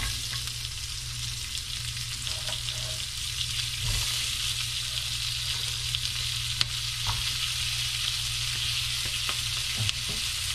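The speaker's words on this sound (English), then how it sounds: "we're gonna throw the onions on, get them cooking nice and slow" Onions fry slowly in a pan with a steady, even sizzle and occasional soft crackles, close by and continuous with no talking.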